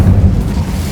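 Incendio fire spell cast in Hogwarts Legacy: a short, loud low rumbling whoosh of flame, dense and booming, lasting about a second with no voices.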